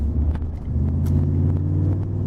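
A Pontiac Firebird with a Magnaflow exhaust and a new transmission mount pulls in second gear, its engine rumbling deep and steady from inside the car, building slightly in pitch without a gear change.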